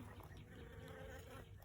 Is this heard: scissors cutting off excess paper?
no